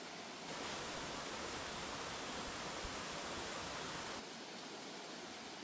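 Mountain stream water tumbling over rocks in a forested valley gorge, a steady dense rush with no let-up, swelling slightly for a few seconds before easing back.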